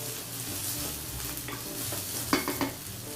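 Celery sizzling in a skillet for jambalaya, a steady close frying hiss with a few clanks of stirring near the end.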